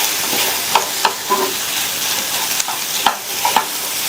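Cauliflower pieces are stirred in a pan for a masala dosa filling, with a steady low sizzle under a handful of sharp spatula scrapes and clacks against the metal, close and fairly loud, no voices.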